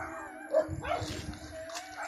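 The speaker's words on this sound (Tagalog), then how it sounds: "Sumisigaw yung aso mga tol" A dog howls and yips faintly in the distance, its cries rising over a quiet, dark background.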